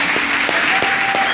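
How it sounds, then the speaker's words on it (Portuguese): A church congregation claps together in praise during a worship service, a loud, dense burst of applause with a faint sustained tone running beneath it, brief and close. "Aplauda o Senhor Jesus."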